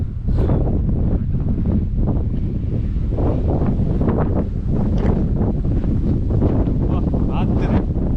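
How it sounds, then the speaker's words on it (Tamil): Steady, loud wind buffeting the microphone on a mountain trek at about 3825 feet, a continuous roar with gusty rises and falls under occasional voices. "காத்து"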